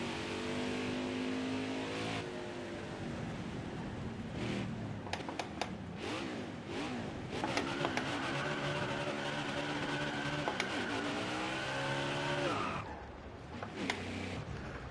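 A simulated Xfinity stock car in a racing video game at Sonoma does burnouts. The engine roars continuously and loudly, with rising and falling revs and wailing pitch sweeps, plus scattered clicks over about fifteen seconds.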